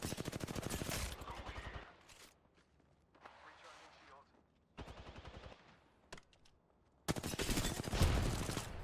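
Rapid automatic gunfire in the video game Apex Legends, close bursts separated by quieter gaps, with a few single shots between them.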